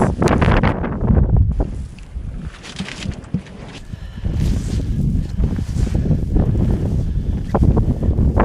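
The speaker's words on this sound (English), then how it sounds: "Big gusts." Strong wind gusts off the water during a winter storm in Greenland roar and buffet the microphone in loud, uneven surges, easing briefly before building again into heavy rushing noise.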